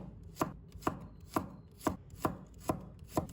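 Peeled fresh ginger is sliced thin with a knife on a cutting board, giving about eight crisp, evenly spaced chops in a steady rhythm, close by and with no voices.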